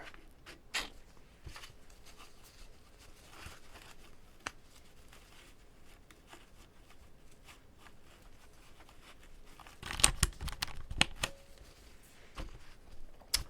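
Plastic keycaps are handled while a keyboard is cleaned, giving quiet, scattered clicks and light taps. A denser cluster of rattling clatter comes near the end, with no talking.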